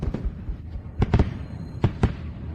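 A fireworks display crackles with scattered sharp pops and bangs at irregular intervals over a rough, steady background rumble.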